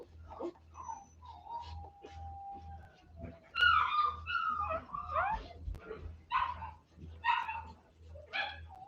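Cane Corso vocalising at close range in a series of short yips, whines and bark-like calls, some drawn out into whimpers, with a steady low pulsing hum underneath throughout.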